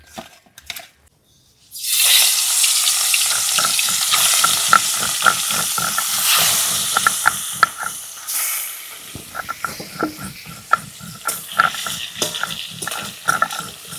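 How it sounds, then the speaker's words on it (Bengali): After a brief quiet start, loud steady sizzling of fish frying in mustard oil in a wok fills the scene, punctuated by frequent clinks and scrapes of a utensil against the pan as the fish is turned. "মাছটা এক পাশটা ভাজা হয়ে গেছে এবার উল্টে দিচ্ছি"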